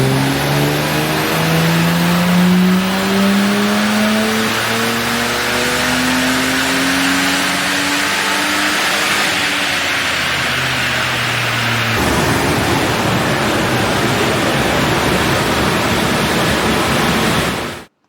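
A Ford XR6 with full exhaust and tune revs hard on a dyno, a loud, close engine roar climbing in pitch through a long pull before cutting off abruptly.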